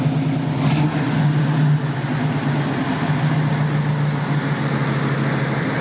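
A 1961 International Scout 80 4x4 with dual exhaust runs steadily at idle, a loud, close, low engine rumble with a constant throbbing drone and no talk.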